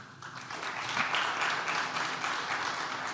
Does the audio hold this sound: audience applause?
yes